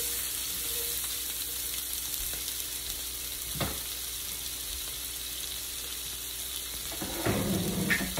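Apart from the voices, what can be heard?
frying and stirring in a pan for meat patty gravy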